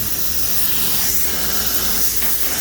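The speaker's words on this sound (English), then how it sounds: "I'm gonna go through and spray these real quick" A steady, close hiss of a PPS Cat X spray gun blasting high-viscosity coating continuously, with a couple of short breaks in the spray toward the end.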